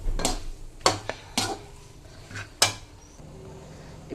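A spatula scrapes and clinks against a pan while okra is stir-fried, five or six distinct knocks coming at uneven intervals amid low kitchen background noise.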